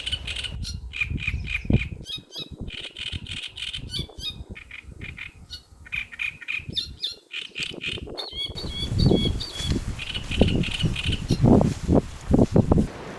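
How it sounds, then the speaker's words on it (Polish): Loud squawking bird calls repeat in busy bursts, with continuous chirping in the background and rustling noise throughout. "Słyszycie te ptaki?"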